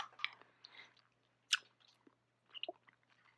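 Someone chews artisanal peach candy with soft, close, irregular crunches and mouth clicks, one sharper bite standing out, in otherwise quiet surroundings.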